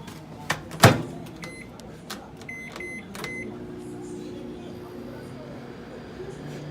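A microwave oven with Peeps marshmallows inside: door clicks and keypad beeps, then a steady low hum as it starts running, close by.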